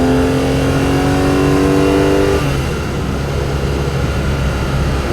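A BMW E9 coupe with an E34 M5 S38 engine revs up loudly with a rising whine while driving, then eases into a steady droning roar, close and continuous.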